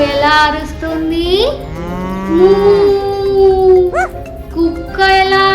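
A group of children imitates a cow mooing, with long drawn-out wavering moo calls that rise and fall, overlapping voices close and loud, and a few shorter yelps mixed in.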